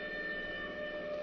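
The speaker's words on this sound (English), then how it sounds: "Hey, that's a police siren." A police siren sounding in an old-time detective radio drama, a steady wailing tone with sustained harmonic bands that holds loud and close throughout.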